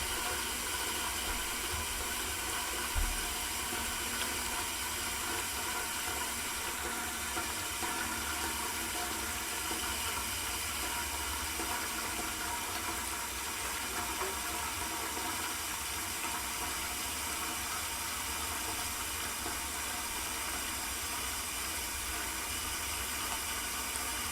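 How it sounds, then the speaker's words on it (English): Steady broadband rush of tap water filling a large canning pot for processing jars of freshly squeezed orange juice, continuous and fairly loud throughout with no talking. "we're just going to fill that pot up"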